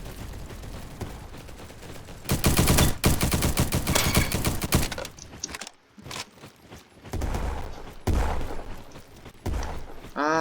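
Gunfire in a video game: dense, loud bursts of rapid shots that come and go over several seconds, with brief pauses between volleys.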